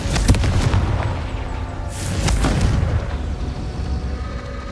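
Confringo blasting curse cast in Hogwarts Legacy on Xbox Series S: a sharp crack, then a second heavy boom a moment later, each followed by rumbling fiery decay under a dense game soundscape.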